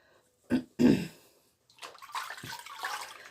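Water splashes in two quick close bursts as a face mask is rinsed off, followed by a softer, longer run of trickling and splashing.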